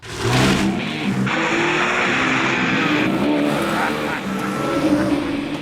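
Convertible car driving, with a loud steady engine drone and road noise throughout, the pitch shifting slightly as it moves, and a brief voice near the start.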